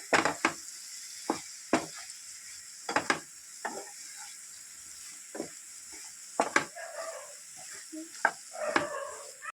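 Mushrooms frying in a pan for mushroom biryani, a soft steady sizzle broken by repeated scraping stirs and clinks of a spoon against the pan, close by with no talk.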